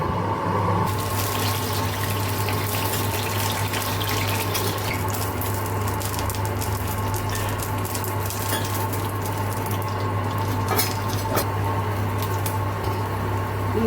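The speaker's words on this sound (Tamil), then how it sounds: "இன்னும் கொஞ்சம் தண்ணி இருக்குதுல, இப்போ கொஞ்சம் ஊற்றிக்கிறேன்" Water runs steadily from a tap into lentil batter with a continuous splashing hiss, soft squishing and pattering sounds mixed in, close and fairly loud throughout.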